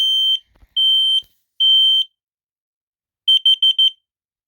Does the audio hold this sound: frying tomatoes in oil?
no